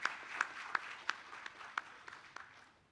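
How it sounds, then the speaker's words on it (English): Scattered applause from a panel discussion audience at a conference on the SME sector, fairly quiet and distant, with a handful of sharper individual claps standing out before it fades away. "So I would like to request a huge round of applause to Reesha."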